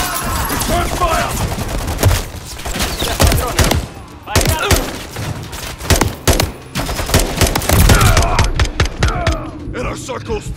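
Dense automatic gunfire and rapid fusillades crack through a Call of Duty Modern Warfare 3 firefight, loud, close bursts repeating almost nonstop with brief gaps, while soldiers shout over the shooting.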